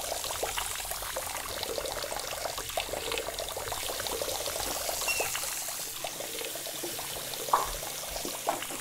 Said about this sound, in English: Jimmy, were you running all these sinks so that you could fill your water blaster?